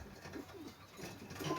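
A pigeon coos softly at a dovecote, a few low throaty rising-and-falling calls repeated over a faint breezy background, fairly quiet and close.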